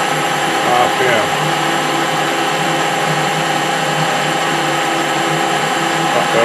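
A surface grinder taking a 30 thou cut on metal at slightly reduced RPM, a loud continuous whining hum with steady tonal overtones that stays even throughout.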